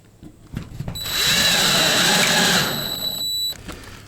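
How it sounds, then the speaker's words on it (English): A power drill drives screws to refasten mobile home siding, with one sustained whirring run of about two seconds that ramps up and winds down, preceded by brief handling knocks, close and loud. "get the siding screwed back on so it's not so floppy"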